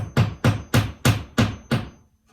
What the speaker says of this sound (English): And we just take the hammer